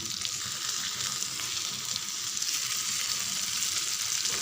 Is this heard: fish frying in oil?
yes